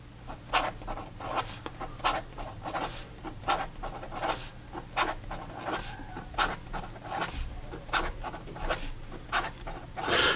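Extra fine nib of a Pilot Elite E95S fountain pen writing on paper, a close, quiet scratchy rasp in quick repeated strokes with short pauses between words, no talk.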